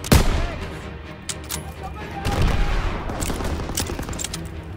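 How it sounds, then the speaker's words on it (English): Heavy wartime gunfire in Call of Duty WW2: a loud burst at the start, then rapid volleys and scattered shots that keep building, mixed near and far. "Taking heavy fire!"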